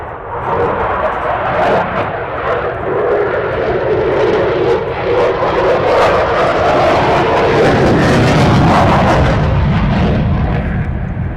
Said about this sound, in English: You can see the tight turn radius that the Typhoon can demonstrate, being the very modern 4th generation fighter that the RAF uses